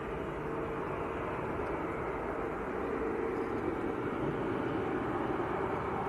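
A Ryanair airliner departs Manchester Airport for Palma, its broad steady engine roar held at an even level throughout, moderately distant, with no talk over it.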